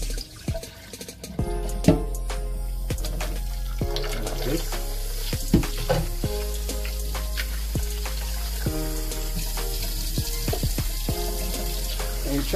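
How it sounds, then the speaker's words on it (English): Rice being washed under a running kitchen tap for a Jamaican white rice dish, with a steady stream of water and grains swished and rubbed by hand, repeated clanks and knocks against the pot, close and continuous. "So we're gonna wash our rice at least 3 times."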